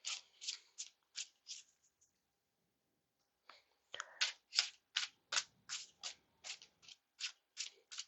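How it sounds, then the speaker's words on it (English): Cards riffle and snap in quick repeated bursts, a short run, a pause, then a longer steady sequence of shuffles close to the microphone. "So hard to shuffle."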